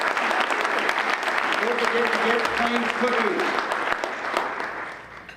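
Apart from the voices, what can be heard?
audience applause for outgoing board members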